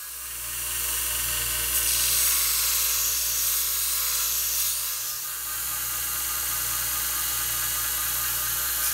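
A power sander with 40 grit paper shapes a taper on the front of a wooden spatula, a steady loud whirring grind that runs without a break.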